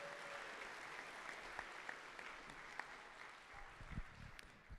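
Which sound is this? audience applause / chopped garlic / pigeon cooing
audience applause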